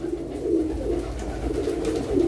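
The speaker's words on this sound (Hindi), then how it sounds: "बहुत ही शानदार कबूतरी जे" A pet pigeon from a fancier's prized breeding pair cooing up close, a low, throaty, rolling coo repeated in soft rhythmic pulses over a faint background hum; no talking.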